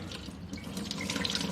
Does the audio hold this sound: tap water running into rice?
yes